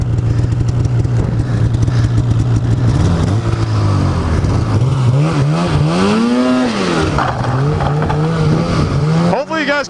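A car passes by while a Polaris Assault 800 snowmobile idles and revs nearby, its engine tone rising and falling loudly across the whole stretch, with a sharp burst of revving right at the end.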